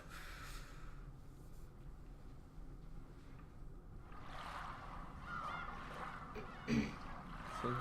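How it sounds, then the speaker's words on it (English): Seagulls cry in the sound effect from the Umineko visual novel; harsh squawking calls rise over a steady seaside ambience, growing busier in the second half with one sharper cry near the end. "Seagulls cry."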